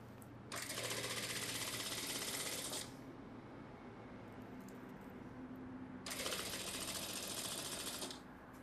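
Sewing machine stitching two fabric pieces in a tailoring class, lower piece pulled and upper piece fed loose; two bursts of fast, even mechanical whirring and clatter, each about two to two and a half seconds, separated by a quieter pause.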